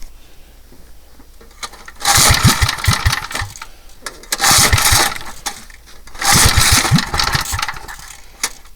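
A Bonanza minibike's small engine is pulled to start three times, each attempt giving a loud, close sputtering burst of a couple of seconds with quiet pauses between.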